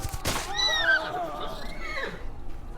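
A horse whinnies in the medieval video game Shadows over Silesia, set in 1428. One loud, descending neigh rises early and trails off over about two seconds, with faint voices or game sound beneath.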